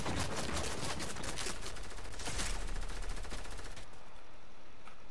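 In a Fortnite match, rapid gunfire rattles out in dense automatic bursts, loud and close, gradually thinning toward the end with a few trailing shots.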